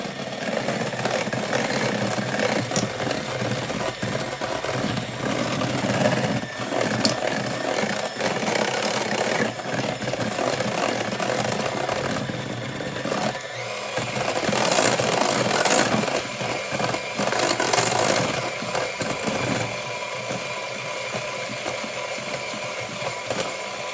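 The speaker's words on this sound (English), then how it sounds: "I like to use a hand mixer to kind of get it all combined and started" An electric hand mixer whirs steadily through cloud bread batter for the full stretch, a continuous motor drone with busy mid and high grinding texture and small shifts in pitch as the beaters move through the bowl.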